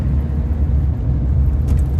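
Cars pass along Holbeach High Street, a continuous loud low rumble of traffic close by with no voices.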